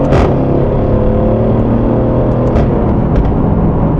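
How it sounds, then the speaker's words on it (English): A car's engine blips and revs during a quick paddle-shift downshift, a loud, close, sustained rumble and whir with brief higher surges, with no voices. "You get that satisfying blip."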